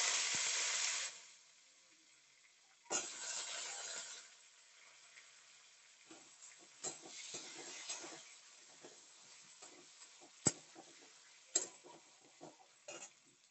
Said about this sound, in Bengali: এবার এই যে ধুয়ে রাখা, কেটে কুটে গুছিয়ে রাখা আলুগুলো এর মধ্যে দিয়ে দিচ্ছি।